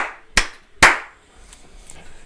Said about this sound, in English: Can we give a round of applause to our first